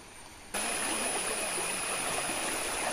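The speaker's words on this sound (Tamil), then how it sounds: "பயங்கர ஃபோர்ஸாக பார்த்தீங்கன்னா இங்கே தண்ணி வந்துட்டுருக்கு." A brown monsoon river in flash flood rushes with great force on the trek to Dudhsagar waterfalls, a dense, loud roar that surges in abruptly and then holds steady without voices.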